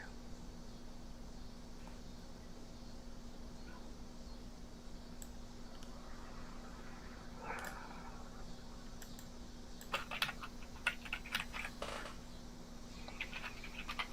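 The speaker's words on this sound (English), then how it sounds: "Don't want to hear any keys clacking." Faint, scattered computer keyboard clacking during an online trivia game, soft irregular key clicks over a steady electrical hum that grow denser toward the end.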